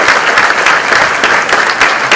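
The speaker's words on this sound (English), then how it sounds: "So give all of yourselves a fantastic round of applause." Audience applause at a Tata Motors commercial vehicle launch for the Xenon Yodha pickup, with Akshay Kumar present: steady, dense clapping from a large crowd filling the hall, sustained and loud throughout with no voices.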